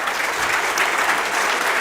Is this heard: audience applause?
yes